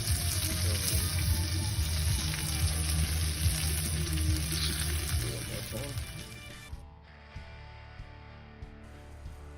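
Steak sears at a steak cooking competition, a loud steady sizzle and crackle of fat that stays dense for several seconds, then drops off quieter as the meat is lifted, leaving faint frying hiss.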